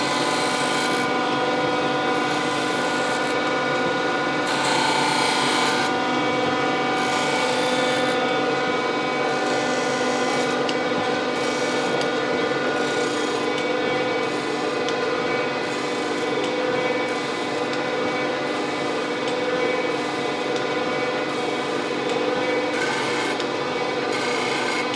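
A grinder working a straight edge casting, a continuous loud rasping, rubbing grind over a steady motor hum, swelling slightly as the workpiece passes back and forth, with no voices.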